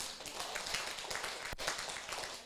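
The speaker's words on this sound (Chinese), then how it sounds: "你们的拍手又是什么原因拍手的？" Audience clapping at a lecture hall talk, a dense, steady patter of many hands continuing throughout without pause, fairly close and even in loudness.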